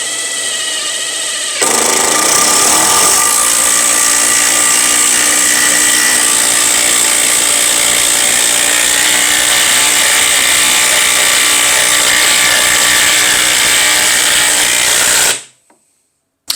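Makita CXT DT04R1 brushless impact driver sinking a 3/8 by 4 inch lag bolt, a loud, steady high-pitched whine with rapid hammering that runs continuously for about fourteen seconds, then cuts off abruptly to silence.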